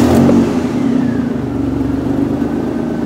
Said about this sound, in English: start the Explorer up. It'll be a little rumbly